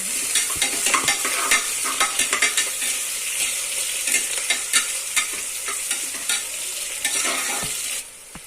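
Onions frying for chicken biryani while a spoon stirs them through the pan, giving a loud continuous sizzle broken by repeated scraping strokes; the stirring stops near the end and the sizzle thins out.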